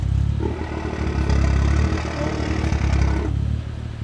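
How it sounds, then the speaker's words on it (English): Loud, throaty BMW M2 exhaust with a VRSF downpipe and Valvetronic full exhaust revving close by, a dense rumbling roar that rises and falls over a few seconds before easing off. "It sounds a lot meaner with the downpipe. It's super loud."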